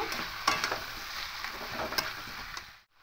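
Fish head and potatoes stir-fried in a pan, with a close sizzle punctuated by several sharp spatula scrapes and knocks, fading out at the end.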